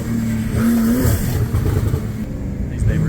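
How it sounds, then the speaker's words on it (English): A turbocharged car engine revving close by, its sound echoing off a wall. A steady, rumbling drone rises and surges throughout, mixed with road and wind noise. "I like to hear the turbos against the wall."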